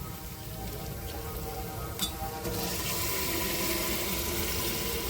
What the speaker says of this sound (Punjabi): ਹੁਣ ਆਪਾਂ ਇਹਦੇ ਵਿੱਚ ਥੋੜਾ ਜਿਹਾ ਪਾਣੀ ਐਡ ਕਰ ਦਾਂਗੇ